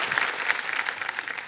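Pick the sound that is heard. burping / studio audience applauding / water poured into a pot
studio audience applauding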